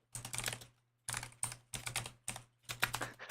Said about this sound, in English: I just love how loud your typing is, Stripe.